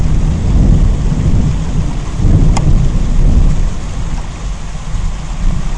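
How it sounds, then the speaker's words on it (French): A heavy downpour of the great flood roars without a break, loud and close, while deep thunder rumbles and swells beneath the rain. "La pluie commence à battre les maisons."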